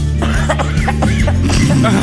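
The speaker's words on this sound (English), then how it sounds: "she's smoking a gravity bong, and she's coughing." A woman coughs after smoking a gravity bong, in several harsh, rapid bursts close to the microphone, with some raspy throat sounds between them.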